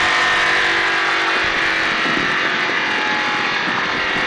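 A race car at Charlotte Motor Speedway during a Petty Experience drive accelerates hard, its engine a loud, continuous roar heard from inside the car, with no talking.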